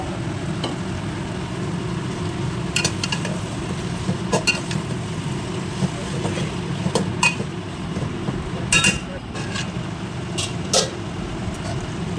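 Marinated chicken in spices stirred around a pot for a homestyle country-chicken curry, with a steady low cooking rumble broken by scattered metallic scrapes and clinks of the spoon against the pot, no talking.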